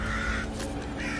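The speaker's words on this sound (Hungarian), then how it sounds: "Jaj, ne! Jönnek a rohadt varjak!" Crows caw in the Little Misfortune video game, harsh calls rising in a short burst at the start and again near the end over a steady low background hum.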